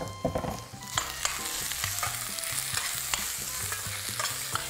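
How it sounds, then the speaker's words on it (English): Onion and diced lamb for a stew hit hot oil in a pan and fry with a loud, dense sizzle, while a utensil stirs with steady rhythmic scrapes close by, with no talk. "So my oil's nice and hot. So in goes that onion, and in goes our diced lamb."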